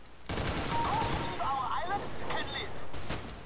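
Automatic rifle gunfire in CS:GO, a sustained loud burst running nearly the whole moment under overlapping speech.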